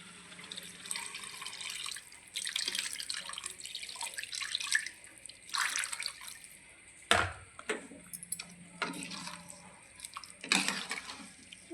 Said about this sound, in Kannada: ಸ್ವಲ್ಪ 1-2 ಗ್ಲಾಸಿನಾಗಿ ನೀರು ಹಾಕ್ಕೊಳ್ಳೋ